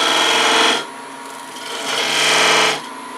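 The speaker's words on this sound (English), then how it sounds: "I'm going to make some V cuts because that looks to me like the easiest way to do this. So I'm going to use this large skew." A large skew chisel cuts V grooves into wood spinning on a lathe, making a close rasping scrape in two strokes with a softer stretch between them.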